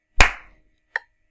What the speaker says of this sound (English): You can also do these by clapping them.